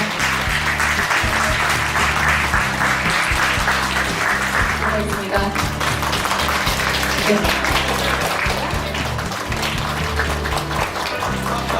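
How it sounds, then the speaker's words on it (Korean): Audience applause at an LG Social Fellow festival as a minister presents a plaque to a research lab: steady, dense clapping lasting the whole stretch over background music, with a brief spoken thanks. "큰 박수 부탁드리겠습니다."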